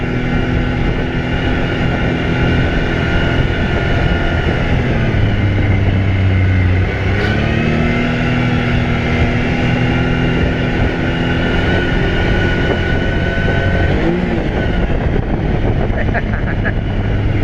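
A 2023 Can-Am Maverick X3 DS engine drones steadily on a trail ride, its pitch shifting as throttle varies, loud and continuous with someone talking over it.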